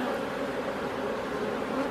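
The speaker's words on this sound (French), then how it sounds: "Ça c'est les abeilles." Honey bees buzz at an open beehive during a weekly inspection, a steady, dense, unbroken hum of many insects close by, moderately loud and alone with no voices.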